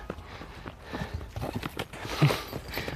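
A black horse walks along with a rider in the saddle, its hooves giving a steady, uneven clip-clop on the ground outdoors, close by, with the rider shifting and some faint background rustle.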